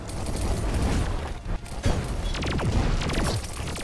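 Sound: weapon impact explosions from below in the video game Terraria Calamity

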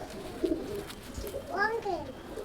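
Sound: pigeon cooing

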